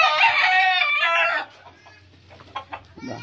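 Chickens cluck and crow loudly up close, then the calls fade into quieter scattered clucks and faint background noise.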